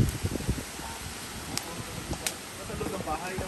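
Wind blowing outdoors with a steady rush and some rustling, buffeting the microphone now and then, with voices talking faintly underneath.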